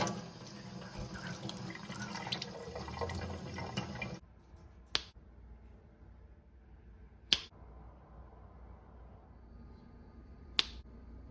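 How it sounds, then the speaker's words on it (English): Squash and other vegetables are washed under a running kitchen tap, a steady splashing stream for about four seconds, followed by quiet with three sharp isolated clicks or knocks. "you start off by washing all of your produce really well"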